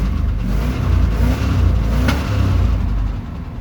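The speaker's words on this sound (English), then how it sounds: "She has a good rev to her too." A 1985 Chevrolet truck with a 350 engine and carburetor, revived after years of sitting, idles and revs steadily up close, a deep continuous engine rumble with no talk.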